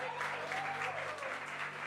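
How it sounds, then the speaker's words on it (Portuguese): A church congregation applauds a visitor, a short, dense burst of clapping that holds steady throughout, with voices murmuring faintly underneath. "Vamos aplaudir pela vida dele, amém?"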